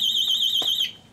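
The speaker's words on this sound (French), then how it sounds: "parce qu'il y a un système d'alarme, c'est pour ça." A supermarket anti-theft alarm at the store exit gives a loud, steady, high-pitched electronic warble for about a second, with a brief thump partway through, then cuts off abruptly.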